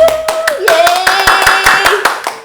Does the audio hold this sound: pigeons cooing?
no